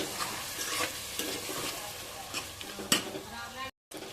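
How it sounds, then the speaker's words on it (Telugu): Mutton pieces frying and being stirred in a pan for curry, a steady sizzle broken by scraping stirs and a sharp clatter near the end. "మటన్ వేసేసుకొని మటన్ కొంచెం మగ్గనిద్దాము."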